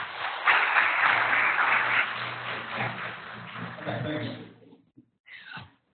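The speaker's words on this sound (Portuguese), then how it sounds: "a presença do nosso querido Dr. Alessandro, com as salvas de palmas de vocês." A crowd at a lecture applauds loudly for several seconds, the clapping slowly thinning out, followed by a brief voice.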